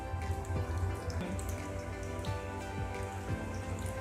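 Chicken pocket roll samosas fry in hot oil over low heat, a dense steady crackle and bubbling that holds close and even throughout, with no voices.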